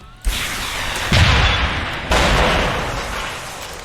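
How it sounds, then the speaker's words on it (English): A rocket launcher fired in Deus Ex: Human Revolution, three loud booming blasts in quick succession, each with a long rumbling decay, close and alone. "It occurs to me that I've not yet actually shot this rocket launcher once in this game."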